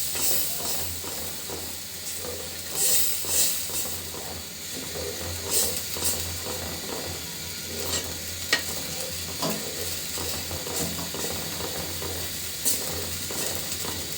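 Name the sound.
dal batter added to hot oil and mixed with spices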